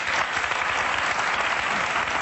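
Steady, dense applause from a studio audience on a television talk show, holding at an even level throughout with no voices breaking through.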